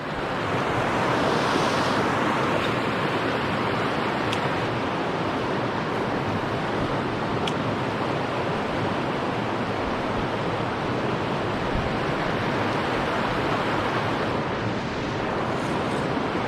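Floodwater pours over a creek spillway in a steady, loud, broadband roar that holds constant for over fifteen seconds, with some wind buffeting at the microphone and no talking.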